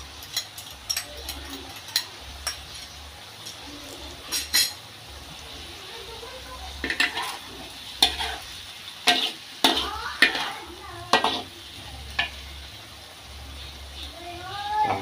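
Long beans, anchovies and tofu are stir-fried in a pan under a constant sizzle, with repeated scraping and clacking strokes of a spatula against the pan, close and uneven in rhythm, and no talk.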